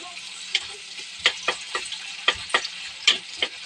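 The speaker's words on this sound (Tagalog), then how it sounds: "Pinirito ko muna yung tokwa." Tofu and garlic frying in a pan, sharp crackling pops and spits breaking out irregularly over a soft quiet sizzle, close and clear.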